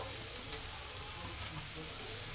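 Tandoori chicken sizzles steadily in a pan as oil is brushed over it, a soft continuous frying crackle at low level.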